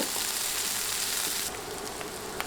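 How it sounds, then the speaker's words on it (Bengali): Sliced onions with salt frying in a pan while being stirred, giving a steady close hiss and sizzle throughout, with faint scraping and a soft tap near the end. "এবার নেড়ে নেড়ে পেঁয়াজ ভেজে নিব"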